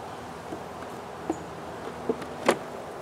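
Honey bees hum around an open beehive being expanded with more frames, a soft, steady buzz close by with a few brief louder passes near the microphone.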